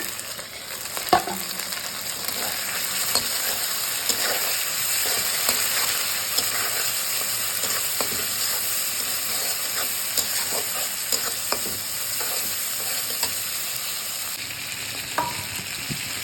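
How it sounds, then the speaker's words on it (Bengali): Shrimp fry in a pan with garlic, onion, panch phoron and three dried chillies, giving a continuous close sizzle broken by occasional sharp clicks and scrapes of stirring, with no talking. "চিংড়ি মাছগুলো ভাজা মোটামুটি কমপ্লিট হয়ে গেছে"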